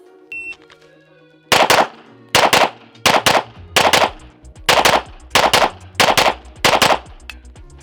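Laugo Alien pistol fired in quick pairs, about seven loud sharp reports spaced in near-regular bursts with short decaying echoes, each shot close and distinct against a quiet background.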